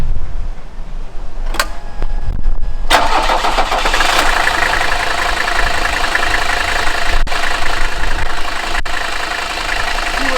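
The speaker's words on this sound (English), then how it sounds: "now we're going to attempt to start the vehicle again" A Mercedes car engine cranks briefly, then catches and settles into a loud, steady idle, recorded up close with a couple of faint clicks and no talking.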